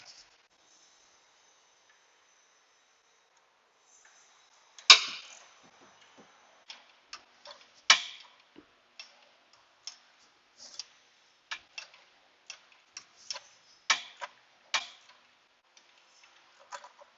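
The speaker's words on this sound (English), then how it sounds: "1/4-inch ratchet." A thin 1/4-inch ratchet clicks in short bursts of quick, sharp ticks, spaced irregularly and fairly close, while bolts are worked on a 2005 Dodge Caravan.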